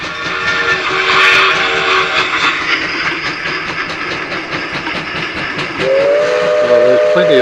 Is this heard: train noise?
yes